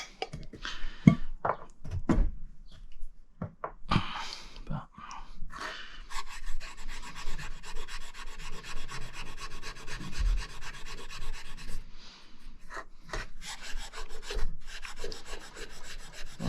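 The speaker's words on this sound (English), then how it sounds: "cleaned it up a bit now, scraped all the old rubbish off, gave it a once over with a pin, exposing all the holes" Old burnt residue is scraped off a Trangia spirit burner by hand, giving close, repeated rasping and scratching strokes in short bursts with brief pauses, then a longer steady stretch of fine scraping.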